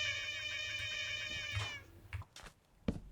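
In a horror video game mod, a cat gives a long, drawn-out, wavering meow over a low droning background, followed by a few soft scattered clicks and bumps.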